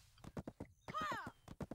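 Horse hooves clip-clop in Black Desert Online, a series of rhythmic thuds over about two seconds, with a horse whinny rising in the middle.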